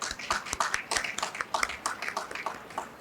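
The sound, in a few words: audience applause at an agribusiness conference panel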